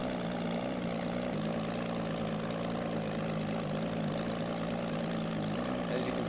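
A Gmod aircraft's real engine and propeller drone without a break. The hum is steady and loud, with a low throbbing buzz and no voices.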